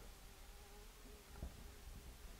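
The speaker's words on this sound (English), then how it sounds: "Do you hear the fly buzzing around?" A housefly buzzes around overhead indoors, a faint continuous drone with a thin whine that wavers as it moves, steady through the short stretch.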